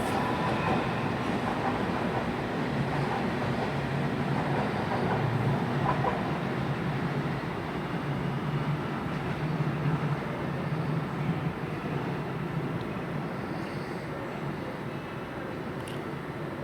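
A train arrives at London Paddington station, a steady rumbling roar that fills the busy station hall without clear pauses.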